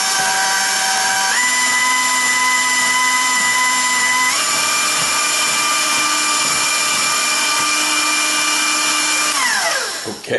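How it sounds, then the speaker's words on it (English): An electric mixer beats pound cake batter at medium-high speed, a loud steady whine that steps up in pitch twice before winding down at the end, close and alone with no talk. "I'm now going to beat the batter for a couple of seconds on"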